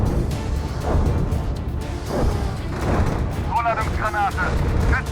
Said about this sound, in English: let's call in artillery along the gap right here